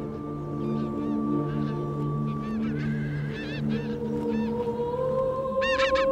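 Geese honk from a nearby flock, nasal calls layered over one another with a steady low drone, while a narrator speaks French throughout.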